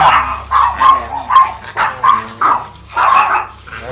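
Several chihuahuas barking and yapping close by, a rapid run of sharp, high, loud barks in quick bursts with brief pauses between.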